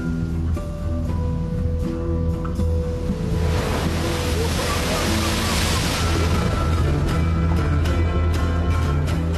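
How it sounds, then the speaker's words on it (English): Heavy ocean surf crashes and churns continuously, a loud, dense roar of breaking waves with rushing water and wind under a layer of background music. "he's walled by tons of water and crushing waves"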